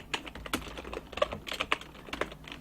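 Quiet, quick keyboard typing, a scatter of light clicky keystrokes in uneven bursts, close by with no voices.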